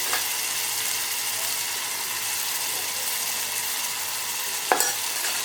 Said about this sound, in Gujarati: 1 મિનિટ સુધી બધા મસાલાને આવી રીતે હલાવી લઈએ